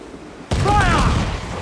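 Ship cannon fire in Assassin's Creed IV: Black Flag, a sudden loud boom erupting after a quiet half-second, with shouted crew orders layered over the rumbling blast as it slowly decays.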